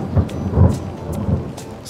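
Thunder rumbles through a storm on a golf course, low rolling booms swelling and fading with rain hissing steadily underneath, close and fairly loud with no talking.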